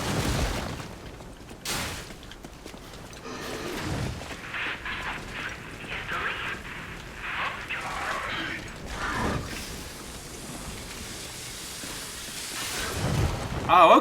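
Weapon grinder mechanism in the video game Lies of P: grinding, ratcheting machine noise with scattered heavy impacts and bursts over about fourteen seconds, fairly loud game audio with occasional faint voice underneath.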